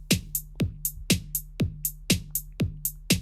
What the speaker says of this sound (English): you almost always have the hi-hats, which are these red symbols or these yellow symbols, on the off beats.